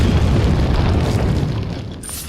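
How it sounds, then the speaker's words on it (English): A grenade going off in Resident Evil 4, a loud, close, deep boom that rumbles and slowly fades over a couple of seconds, with no talk over it. "if you lob some kind of grenade into the middle"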